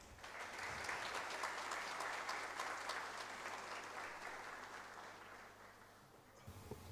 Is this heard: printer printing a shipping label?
no